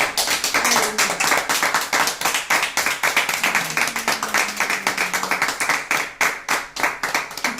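A congregation claps for Jesus during a church service, a steady run of loud, close hand claps with an even rhythm, some voices faintly mixed in underneath.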